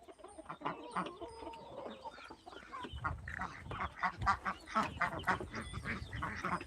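Ducks and free-range village chickens on a farm cluck and quack in a busy overlapping chorus, fairly close, with no talk.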